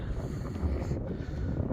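On a very windy day near a runway, gusts buffet the microphone with a continuous, loud, low rumbling roar that never settles, with no other clear sound.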